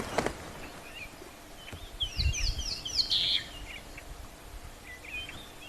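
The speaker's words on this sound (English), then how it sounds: "I definitely heard a violet-backed starling calling." A violet-backed starling calls from atop a dead leadwood tree on an overcast safari, a brief series of thin high chirps and whistles at moderate distance over quiet bush ambience.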